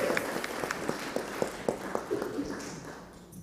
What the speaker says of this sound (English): Let's give a round of applause to Lisa.